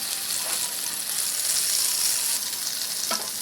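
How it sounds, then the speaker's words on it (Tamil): Pieces of country chicken frying in oil in a pan: a loud, continuous hissing sizzle fills the whole stretch, close and steady, with a couple of faint clinks and no talk. "ஒரு பேனில் எண்ணெய் ஊற்றிட்டு அந்த பீஸ் 2 எடுத்து வச்சிடலாம்"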